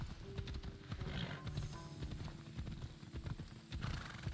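A horse's hooves clip-clop in the video game Assassin's Creed Odyssey, a quick, uneven run of soft thuds at low volume, with faint game ambience and no talk.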